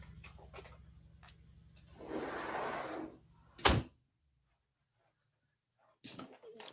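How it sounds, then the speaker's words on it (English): A door is pushed shut indoors in a quiet room, giving one sharp, loud bang after a stretch of rustling and shuffling noise, followed by near silence and then faint movement. "I'm just going to close the door here because of the noise"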